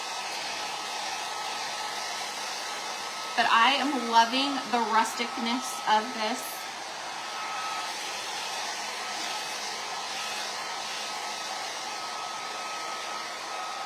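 A hair dryer runs steadily throughout, drying the inside of a rustic fabric craft sack, with someone speaking briefly over its even whir partway through.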